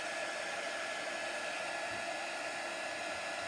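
A hair dryer blows steadily and loudly on a freshly made cake decoration, a constant broadband whoosh held the whole time with no talk over it.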